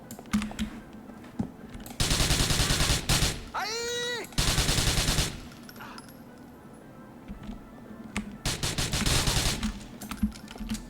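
Bursts of video-game gunfire from GTA 4, loud rapid volleys of shots in several clusters across the scene, with a brief rising electronic sweep between them.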